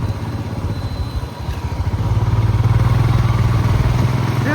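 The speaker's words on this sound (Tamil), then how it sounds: "நான் புல்லட் ஓட்டுறேன்." Royal Enfield Bullet motorcycle engine running steadily with a low, thumping chug that grows louder and fuller partway through, with no talk over it.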